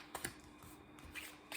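Tarot cards shuffled and drawn by hand, a short run of soft papery flicks and taps, close and quiet, with no talking.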